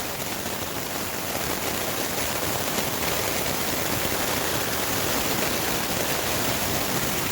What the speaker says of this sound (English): it is raining good and hard, and there's thunder and lightning around